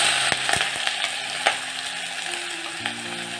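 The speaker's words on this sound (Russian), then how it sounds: "Масло в казане разогрелось, и я добавляю сюда репчатый лук." Chopped onion hits very hot vegetable oil in a kazan for vermicelli pilaf, giving a loud, continuous crackling sizzle with sharp pops and stirring clicks nearby.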